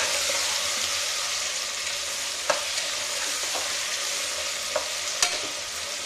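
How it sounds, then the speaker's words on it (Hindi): Chopped onions and tomatoes frying in a pan over the flame, a steady close sizzle with a few soft scrapes and knocks of a spoon stirring, no voices. "तो हमने प्याज टमाटर को डाल दिया है, अच्छे से मिक्स कर लेते हैं।"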